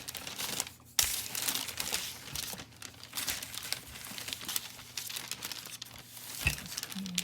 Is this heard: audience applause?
no